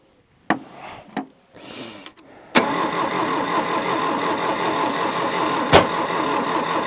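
A Daihatsu 4x4 from the 1980s cranks in a few short bursts, then catches and settles into a steady, loud idle with a sharp clunk near the end. Nobody speaks.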